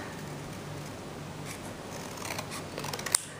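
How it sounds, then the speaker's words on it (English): Scissors slicing a paper card in half while making a Valentine pop-up card, a soft steady rustle of cutting that ends in a sharper snip, close and quiet. "we are gonna cut it this way, just in half"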